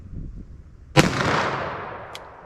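A single loud, sharp gunshot from a 4-inch .357 Magnum revolver firing Remington HTP 110 gr semi-jacketed hollow points outdoors, followed by a long rolling echo that fades over about a second.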